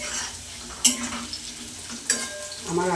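Potatoes frying in a pan, a steady low sizzle with two sharp clinks of a utensil against the pan and soft stirring scrapes, no talking.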